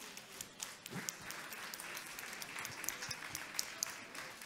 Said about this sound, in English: Give Curtis a round of applause as I continue to introduce him.